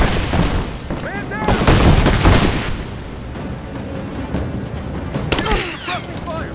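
Bursts of gunfire in Rise of the Tomb Raider, rapid repeated shots and volleys in a firefight, with shouted voices and game sound effects mixed in.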